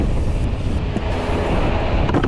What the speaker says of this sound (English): Because it is very windy out.